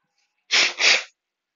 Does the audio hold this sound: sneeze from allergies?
yes